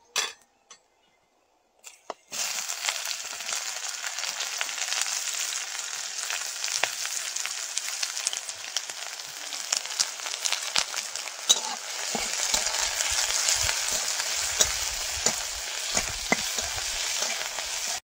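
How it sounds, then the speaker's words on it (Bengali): Onion and garlic frying in a pan, a steady close sizzle and crackle running almost without pause after a brief quiet start, with occasional stirring clicks and scrapes. "পেঁয়াজ রসুনটা ভাজা হয়ে গেছে"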